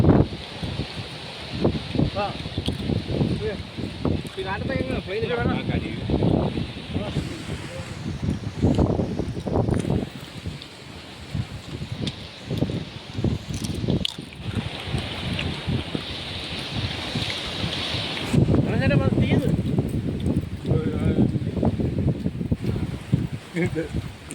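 Wind buffets the microphone in strong, rumbling gusts throughout on a trekking trail at Koonichimala hill in Kerala, India, with voices talking faintly underneath at times.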